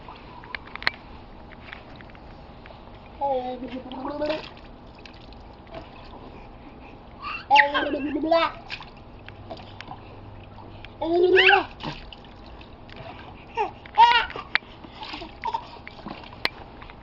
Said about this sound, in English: No, don't splash, Nathan.